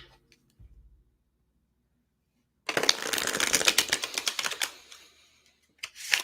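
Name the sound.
tarot cards being shuffled and a card pulled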